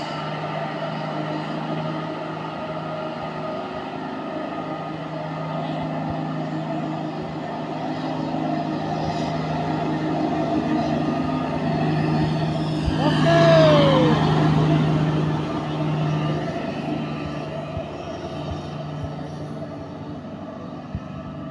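A Fuso truck loaded with electricity poles accelerates up a steep hill road, its engine a steady loud drone, with a rising whine and tonal sweep as it passes close by.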